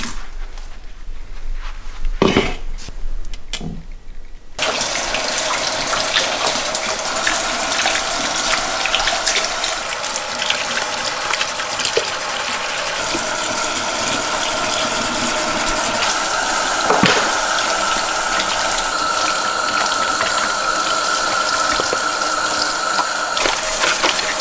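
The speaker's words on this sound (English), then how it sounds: "I'm done rinsing out all our greens" Tap water runs steadily into a kitchen sink while greens are rinsed, starting after a few seconds of quieter handling noise and then pouring on as a loud, continuous rush.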